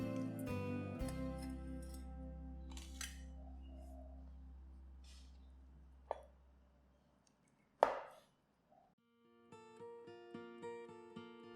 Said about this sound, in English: Now, slice up the mushrooms.